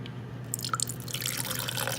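Water pours into a drinking glass for bedtime turmeric tea, a steady close splashing stream that starts after a brief quiet moment and runs to the end.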